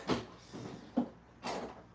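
The door of a Simplex player piano is handled and shut, making a few close, soft sliding thumps and knocks spaced about half a second apart in a quiet room.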